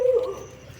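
A dog on a farm in the hills near Haldwani, Uttarakhand, gives a single short, faint bark or yip, with only quiet outdoor background after it.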